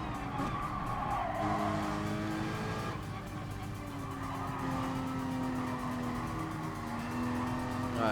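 Race car in Gran Turismo Sport braking late into a corner, with a steady engine drone, shifting pitch as it slows, and sustained tire squeal. The sound runs continuously and loudly throughout, with no talk.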